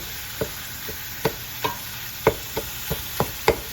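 Ground beef fries in a soup pot while a utensil breaks it apart, with about eight distinct scraping knocks spaced irregularly over a low, steady sizzle, close by and without talk.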